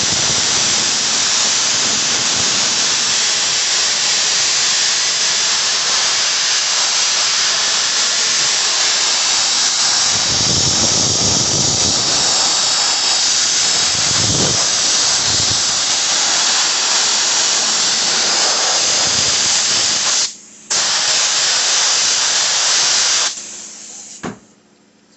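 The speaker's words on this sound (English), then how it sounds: "now we spray glue from here to here" Spray glue hisses steadily and loudly from a can onto a cracked panel, a continuous close spray that runs almost unbroken before briefly cutting off near the end.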